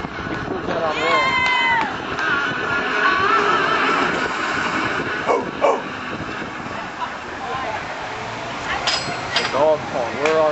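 Dogs barking and yipping amid a busy wrestling arena crowd during a wrestler's ring entrance, with an announcer talking over the noise and several sharp barks standing out near the end.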